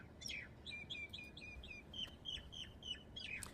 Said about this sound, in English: We have nice bird sounds.